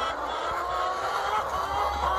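Young laying hens, pullets just starting to lay, clucking softly and continuously close by, a dense murmur of overlapping flock calls.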